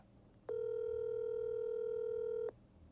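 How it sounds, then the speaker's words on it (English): A single steady telephone ringback tone sounds for about two seconds on an unanswered call, faint and even over quiet background noise. "Answer the phone, cuz."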